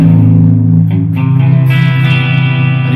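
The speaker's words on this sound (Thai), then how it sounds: "Guitar Rig 6ว่าเสียงเป็นยังไงนี่คือเสียงดิบๆจากตัวมันเอง" Raw, unprocessed electric guitar through Guitar Rig 6 rings out loud and close, with sustained strummed notes shifting to a brighter chord partway through and no voices.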